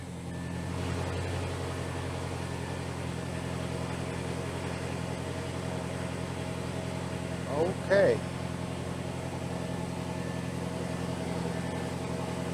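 An Audi TT with a 4.0 engine idles in a steady, low, even hum, close by and continuous throughout, while someone briefly speaks a word partway through.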